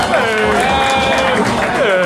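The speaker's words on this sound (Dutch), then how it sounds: "geef ze nog een applaus, dames en heren" Audience applause at a pub quiz in a bar, a dense steady wash of clapping and crowd noise filling the whole stretch, with voices mixed in underneath.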